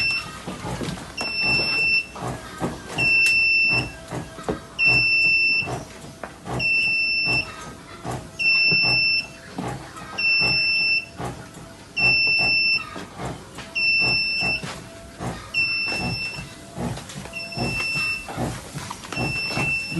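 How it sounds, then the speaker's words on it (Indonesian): A push-button disinfectant spraying device sounds its alarm for COVID-19 prevention, a loud electronic beeping in regular pulses, about one per second, that repeats steadily and fades toward the end over a busy background. "Tombol ini akan kita tekan,"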